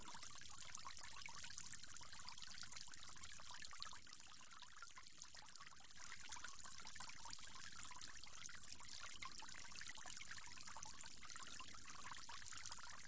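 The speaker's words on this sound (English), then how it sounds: "you'll go on to rinse your mouth 3 times" Water pouring and trickling in a steady, continuous stream during mouth rinsing for prayer ablution, with a brief softer dip partway through and no voices.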